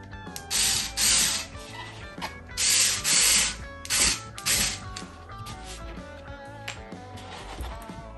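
Power drill driving screws into the wooden frame of a canvas set in a box frame, several loud whirring bursts with pauses between, close and alone.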